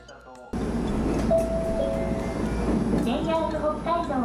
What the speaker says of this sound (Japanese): ここまで乗ってきたスーパー北斗号、もちろん小幌には止まりませんから